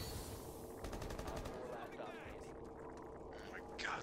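Rapid automatic gunfire in Rainbow Six as players shoot at a hatch, a dense burst of shots followed by scattered impacts and game noise, with voices talking over the action.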